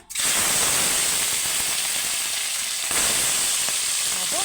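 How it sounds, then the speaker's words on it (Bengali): Fresh rohu fish heads fry in hot oil in a wok, producing a loud, continuous sizzling hiss that starts abruptly and carries on with faint crackles. "আমি এবার মাছগুলো ভাজবো"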